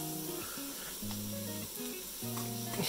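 Haluski fries in a pan with a steady, hissing sizzle while flavorings such as mushroom powder go in, all under continuous tonal background music.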